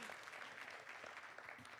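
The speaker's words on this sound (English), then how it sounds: "keep applauding" Faint, steady applause from a conference audience in Brussels greeting panel speakers, a soft continuous patter of many hands heard from some distance.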